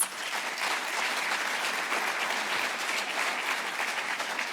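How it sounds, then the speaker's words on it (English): Audience at the closing plenary of the CSIR and G-STIC conference breaking into sustained, even applause, dense and fairly close throughout. "I think that deserves a round of applause."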